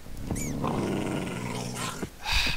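A low, rumbling dog growl holds steady for about two seconds in a video game, with a couple of brief higher game-like sound effects over it.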